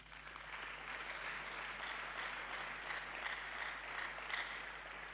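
A congregation at a prayer service claps together in a sustained round of applause, steady and moderately distant, with no voices standing out.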